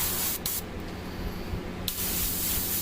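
Airbrush spraying paint onto an Adeptus Mechanicus Ruststalker tabletop miniature, a loud close steady hiss in a few bursts with brief cutoffs and one longer pause partway through.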